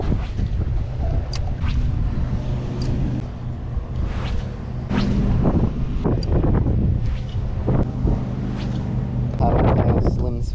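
Strong gusting wind buffets the microphone while fishing on the Gold Coast, a loud rumbling roar that swells and eases over several seconds, with someone talking through it.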